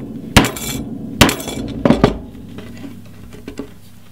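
Screwdriver struck with a hammer against a relay box resting on a wooden table, giving four or five sharp metallic knocks, the first three loud and spaced about a second apart, then two lighter taps.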